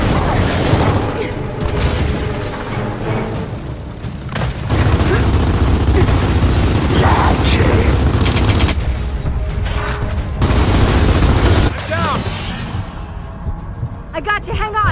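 Gears of War 4 combat brings loud, sustained bursts of gunfire and booming explosions, including a grenade blast, with dense rattling fire, voices shouting over the battle, and a calmer stretch near the end.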